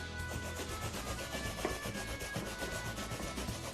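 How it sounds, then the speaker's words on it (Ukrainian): Onion grated by hand on a grater for Ukrainian potato pancakes, a steady close rasping scrape repeating in quick even strokes for the whole stretch, no voices. "Коли ми натерли картоплю, ми натираємо цибульку."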